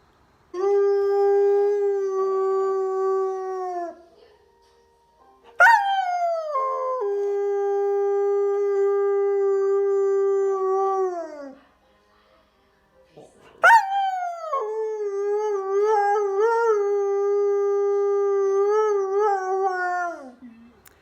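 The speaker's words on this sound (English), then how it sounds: "Then we're going to listen to a coyote." Three long, sustained howls with rich harmonic tones, each rising sharply then holding steady and sliding down at the end, separated by brief silences.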